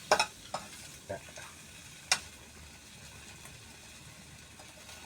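Chinese sausage frying in a pan gives a soft, continuous sizzle, punctuated by a few sharp scraping clicks of stirring, close and quiet, with no talking.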